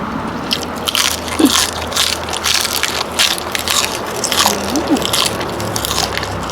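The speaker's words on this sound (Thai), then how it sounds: "หวานกรอบมีความสุขกินผักงามๆกินผักแสบๆหวานๆเนาะ" Crisp, fresh garden vegetables crunched while eating salmon koi outdoors, with repeated close bites and crackly chewing carrying steadily over a constant background hiss.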